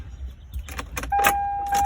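Keys jangle and click in the ignition of a 1996 Toyota 4Runner, followed by a steady warning chime and the engine catching and running, close and moderately loud.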